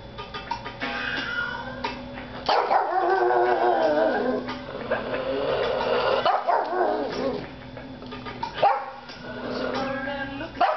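A pug howls and yips along to a rock song playing nearby, its drawn-out wavering cries rising over the music in several bursts.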